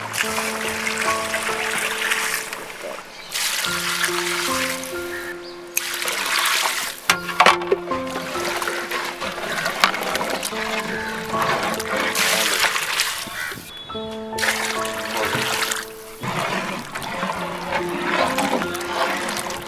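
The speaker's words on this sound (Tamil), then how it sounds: "இப்போ நம்ம தண்ணியை சேர்த்துக்குருவோம்." Water is poured into a pot of Ambur chicken biryani, splashing and trickling in several bursts with short pauses between them, set against steady background music.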